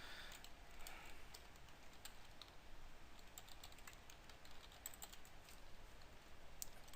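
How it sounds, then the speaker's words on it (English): Rapid, uneven clicking of someone typing on a computer keyboard, keys tapped close and fairly quietly in a continuous stream over a faint hiss, with no talking. "I'm just not doing well typing tonight"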